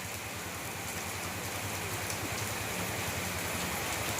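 Steady, dense rain falls outdoors as a continuous, even hiss with no pauses and no voices.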